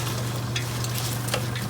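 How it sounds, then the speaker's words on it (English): Noodles and cabbage being stirred in a pot over a constant low hum and soft sizzle, with a few light scraping taps of the spoon close by. "stir that up a little bit there."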